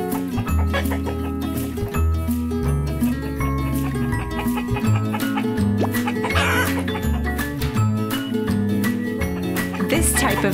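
A toy hen clucks repeatedly over a steady backing of bouncy music, the clucks close and fairly loud throughout.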